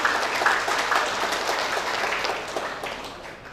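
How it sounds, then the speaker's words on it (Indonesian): An audience applauds a man and his team, a dense, even patter of clapping that starts near and loud and slowly fades across a few seconds. "Tepuk tangan untuk Bapak dan tim."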